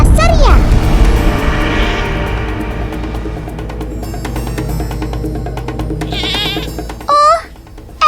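A lone goat gives wavering bleats, one at the start and two short ones near the end, over a dense mix of background talk, music and noise.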